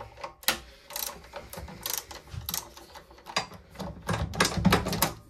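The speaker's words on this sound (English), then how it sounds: "Got the ratchet. Let's get these bolts unloosened." Ratchet working on tight, long-untouched carburetor bolts of an old Honda engine left in a garage since 2002, giving a run of close, sharp mechanical clicks and bursts of irregular clatter with no speech.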